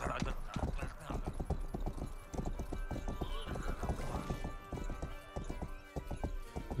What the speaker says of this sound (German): was ist denn das eigentlich für ein Pferd?